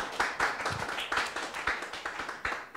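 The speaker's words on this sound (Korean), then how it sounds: "다시 한번 박수를 좀 부탁드리겠습니다." Scattered hand claps from a small audience thanking a candidate at a Seoul education superintendent election interview in 2022, a few sharp claps in an uneven rhythm, moderately close, with no talk.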